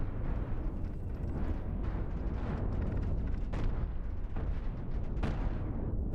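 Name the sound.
cannon fire and explosions from ship battle in Cosmoteer video game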